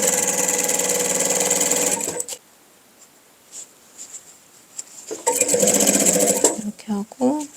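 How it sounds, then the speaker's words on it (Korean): A sewing machine stitches along bias binding on a vest, running in a steady burst, pausing through a quiet stretch, then whirring again, with a voice talking during the lull. "이 바이어스 결 그대로 쭉 박음질 해주시면 돼요."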